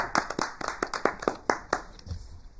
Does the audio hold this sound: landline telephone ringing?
no